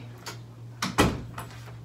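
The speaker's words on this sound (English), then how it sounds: "open door." A door opens indoors in a home: a short soft creak, then a louder knock or latch thud near the middle, followed by fainter scraping, with a steady low hum underneath and no talking.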